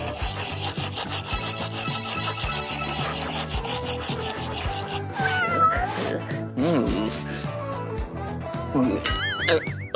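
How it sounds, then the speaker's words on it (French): A cat meows repeatedly while being brushed, its cries rising over a steady rhythmic rubbing and scraping and a busy music bed, with talk in between. "Ton chat profite d'un bon brossage et sans salive."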